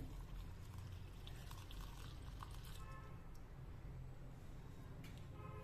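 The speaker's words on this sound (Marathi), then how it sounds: "मी ते अर्धा कप पाणी यामध्ये घालते" A thin trickle of water pours steadily into a pot, faint and close, with slight clinks and a low background rumble.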